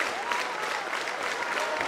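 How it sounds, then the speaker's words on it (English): Wrestling crowd at an NWA show cheers and applauds steadily, a dense wash of clapping and voices that holds at full level throughout. "You hear that crowd getting behind him."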